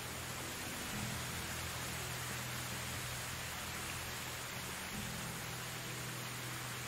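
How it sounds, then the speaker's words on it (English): Rain in the Medieval Dynasty video game falls as a steady, even hiss of downpour throughout, quiet overall with a faint low hum beneath and no voices. "I can hardly hear anything above that rain."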